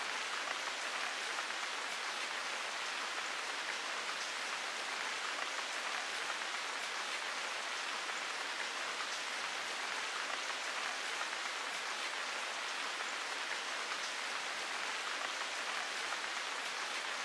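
Steady rain on a rainy day in Sword Art Online: Hollow Fragment, an even, hissing wash of falling drops, constant and unbroken, with no other sounds over it.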